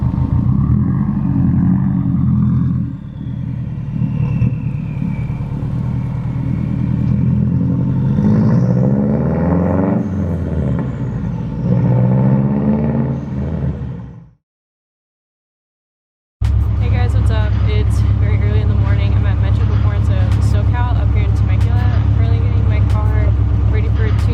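A tuned 2006 Subaru WRX with 175k miles pulls hard, its engine roaring loud and steady, cutting out for a couple of seconds before returning with a dense rumble.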